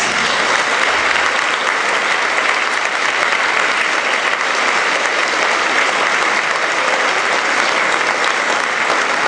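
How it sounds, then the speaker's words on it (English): Strong, dense applause fills the room at an awards event as helpers are thanked, a steady, even roar of many hands clapping throughout with no talk. "please stand up so we can give you a round of applause"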